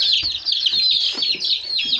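Young chicks clucking and chirping close by, a busy run of high, quick peeps with soft lower clucks mixed in.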